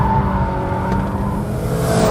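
Toyota GT86 TRD or Mazda MX-5 BBR Turbo rear-wheel-drive car sliding on a race track, close, loud sustained engine drone with faint tire scrub throughout a brief burst.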